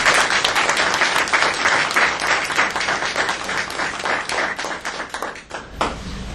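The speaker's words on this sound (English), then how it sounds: "I want to give them another round of applause." Loud, sustained applause from a crowd at a school board meeting, many hands clapping steadily before thinning out near the end.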